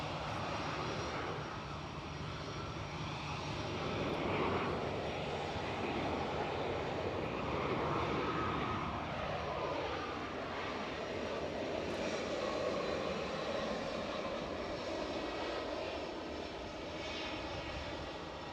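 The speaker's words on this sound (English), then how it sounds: "we're just going to hold now for the inbound A319 from Heathrow, courtesy of British Airways." A British Airways A319 arriving from Heathrow lands at Edinburgh Airport, a steady broadband engine roar holding at moderate distance, slowly shifting in tone as the jet passes.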